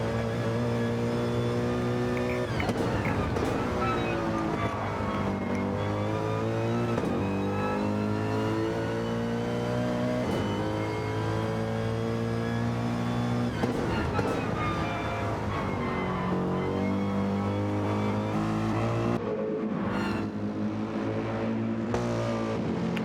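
A race car engine heard from onboard during a night race in the Ultimate Racing League, droning loud and continuous with rising and falling revs through gear changes, no talk over it.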